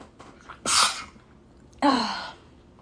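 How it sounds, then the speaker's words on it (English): Two sneezes, loud and close, about a second apart, separated by quiet. "About to sneeze, I feel it."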